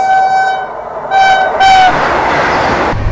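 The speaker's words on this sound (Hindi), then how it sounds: "गजब की हॉकिंग और स्किप मारने जा रही है अपनी वेस्ट बंगाल संपर्क क्रांति" The West Bengal Sampark Kranti Express sounds its horn in long, loud blasts while running at speed, with the steady rush and rumble of the moving train beneath.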